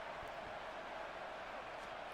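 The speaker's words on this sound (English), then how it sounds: "The crowd is loud." Stadium crowd noise in the American football video game Madden 26 during a Ravens–Bengals game, a steady, fairly faint roar from the stands that runs throughout.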